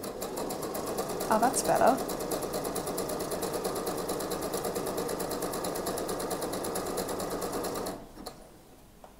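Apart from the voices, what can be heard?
sewing machine stitching wedding dress skirt seams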